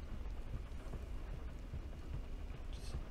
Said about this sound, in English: Just nonchalantly walking through the rain.